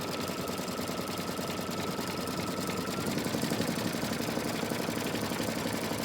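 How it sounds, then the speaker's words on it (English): An embroidery machine stitching an in-the-hoop stocking runs alone at a steady pace, a rapid mechanical chatter over a low motor hum, close and fairly loud throughout. "So we're going to let this finish stitching out"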